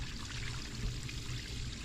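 Waste water from an RV running through a drain hose laid downhill, a steady continuous gush and trickle close by with no talking.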